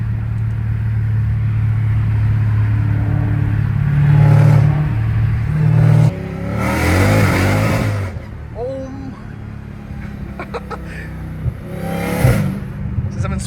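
Catless Dodge Challenger Hellcat Redeye engine droning loudly from inside the car while driving, with a low rumbling hum, a surge of revving midway, and someone talking over it.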